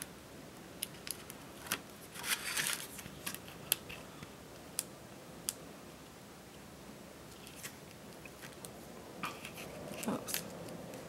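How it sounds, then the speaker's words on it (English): Tape being peeled off a paper gift box made for bath and body products, with faint scattered crinkles, soft tearing and handling noises, quiet and close. "So we're going to remove the tape."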